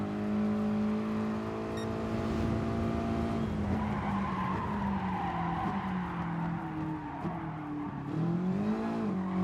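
A race car in Gran Turismo Sport, a beginner league race, whines at high revs with a steady engine drone, shifting pitch through gear changes and ending in a long tire squeal as it skids through corners, with no talking.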